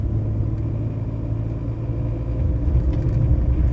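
Vehicles pass along a village road with a steady, low engine rumble close by that swells slightly toward the end, with no talking.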